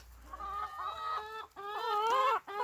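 Chickens cluck and warble continuously nearby, a steady stream of overlapping calls with brief pauses between phrases, no people talking.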